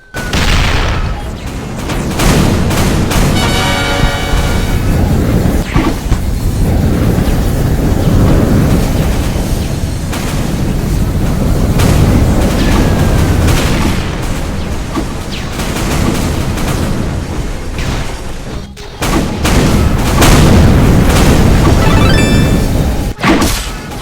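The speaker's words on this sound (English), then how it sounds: "This is the part where I use the laser crusher toilet." Dense, loud booms and crashing blasts from a laser crusher toilet attack in a Roblox bathroom battle, a continuous barrage of explosive impacts with a short break near the end.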